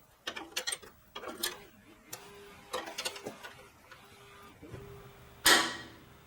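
Metallic clicking and ratcheting while a bolt is tightened on a Briggs & Stratton lawn engine starter clutch, several bursts of close clicks with pauses and a brief louder scrape near the end, no talking.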